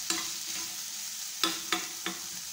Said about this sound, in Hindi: जस्ट 1 मिनट के लिए हम इसको सौते करके निकाल लेंगे